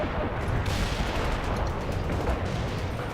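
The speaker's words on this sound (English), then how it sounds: "Mortar barrage executed." A mortar barrage in the strategy video game World in Conflict rolls on as dense, continuous rumbling blasts and crackling impacts that merge into one loud, steady roar, with no talking.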